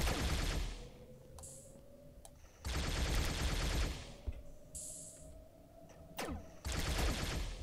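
Bursts of pistol gunfire from an indie video game, three long rapid volleys separated by quieter gaps with brief electronic game tones in between, loud and close with no talking.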